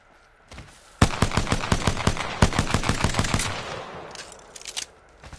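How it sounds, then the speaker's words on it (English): Video game gunfire in third-person view: a dense, rapid burst of loud automatic shots lasting several seconds, tapering into scattered quieter shots. "A little bit of firing is fun right there."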